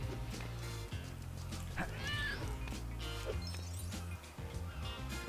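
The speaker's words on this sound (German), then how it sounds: "So, ich muss die Katze retten." Cat meowing in the Lego City Undercover video game, a few short mews rising over dense game music and background effects.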